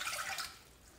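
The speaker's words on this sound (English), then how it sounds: "We're going to put in our water" Water poured into a 2.5 quart cooking pan, a short splashing pour that is loudest at the start and tapers off within a second, with no voices.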